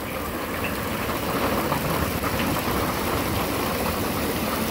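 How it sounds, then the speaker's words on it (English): Heavy rain mixed with hail drums steadily on the roof of an RV during a severe storm at Lake Havasu, a dense, continuous roar close overhead with no let-up. "that's what it sounds like in an RV when it hails."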